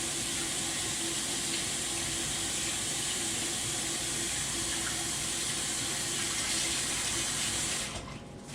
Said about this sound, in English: Let me give my hands a little more rinse again.